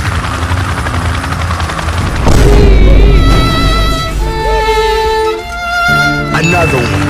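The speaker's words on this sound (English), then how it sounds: "Helicopter. Let's go." A helicopter in the Harekat 2 video game: loud, close, continuous rotor thumping, with a heavy boom and chiming game effects partway through.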